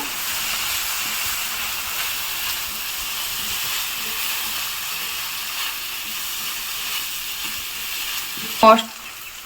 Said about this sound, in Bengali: ভালো করে মশলাটা কষিয়ে নেব।